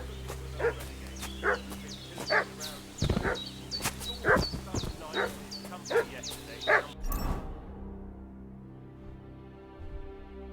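A dog in Kingdom Come: Deliverance 2 barks and yips repeatedly in short bursts, fairly close, over steady game ambience, then it all cuts to near silence.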